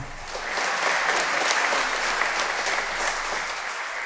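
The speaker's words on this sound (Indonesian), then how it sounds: "Kur, tepuk tangan untuk kur kita." A congregation at Sunday Mass in Lent applauds the choir, a steady, moderately loud patter of many hands clapping for a few seconds without speech.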